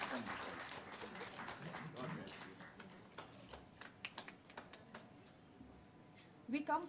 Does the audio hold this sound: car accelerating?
no